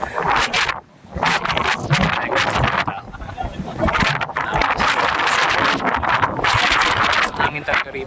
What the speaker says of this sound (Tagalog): Hangin talaga rito.